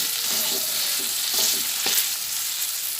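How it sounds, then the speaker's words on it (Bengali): Kashmiri chilli powder and turmeric powder stirred and fried in oil, a constant close sizzle with several rhythmic scraping strokes of a spatula against the pan; no one speaks. "কাশ্মীরি লঙ্কা গুঁড়ো দিলাম এক চামচ হলুদ গুঁড়ো দিলাম দিয়ে সব একসঙ্গে নাড়াচাড়া করে ভেজে নিচ্ছি"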